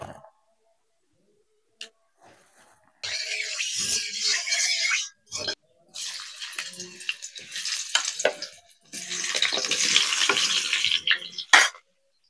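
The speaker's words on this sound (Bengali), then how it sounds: "এখানে আমি কড়াই বসিয়ে দিয়েছি, কড়াই সর্ষের তেল দেবো, আলুগুলো ভেজে নেব।" Potatoes fry in mustard oil in a wok, a loud hissing sizzle in bursts with brief pauses, close by and without talk.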